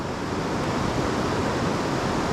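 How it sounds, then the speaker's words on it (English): The Youghiogheny-style rush of Cucumber Rapids in Ohiopyle State Park roars as a steady, broad wash of water over boulders, close and unbroken with no voices. "the end of what are called the Cucumber Rapids here"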